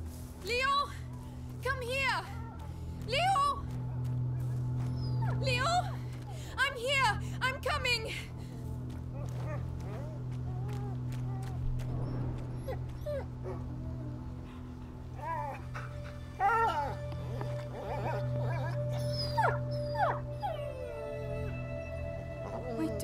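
A dog in A Plague Tale: Innocence whimpers and whines in a series of high, wavering cries, heard under frequent talking voices and a steady low musical drone.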